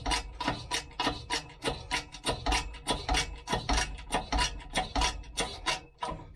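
A bolt is forced through the A-frame pivot of a classic soft-dash Range Rover, producing a rhythmic series of scraping, grinding strokes, about two per second, close and moderately loud with no talking.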